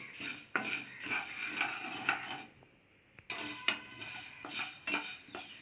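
Whole coriander seeds dry roasting in a pan for Maharashtrian goda masala, with a steady dry rustle and repeated scraping stirs of a spoon against the pan, broken by a short quiet pause midway.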